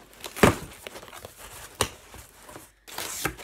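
Packing paper crumpled by hand while unpacking an order, a few sharp crinkling bursts separated by quieter rustling, close and moderately loud with no talk.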